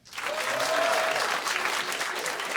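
A comedy club audience in Toronto breaks into applause that swells quickly and holds steady, a dense crowd clapping with a few voices and whoops inside it.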